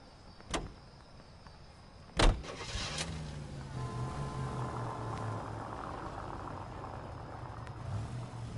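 A car in L.A. Noire: two door thunks, then an engine starts and settles into a steady low idle hum under the rest, fairly close and moderately quiet.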